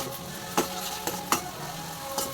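Ginger garlic paste crackles and sizzles in a hot pan with onions, a steady low frying hiss broken by a few sharp scraping clicks of stirring, close and moderately loud.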